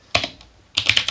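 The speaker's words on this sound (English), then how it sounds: "Next thing I'm going to type is sudo" Fingers tap a Linux command on a computer keyboard in two quick bursts of crisp, close key clicks with a short pause between them.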